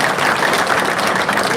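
Applause fills a political gathering honoring guests with turbans, a dense continuous wash of clapping at steady loudness, with no clear voices over it.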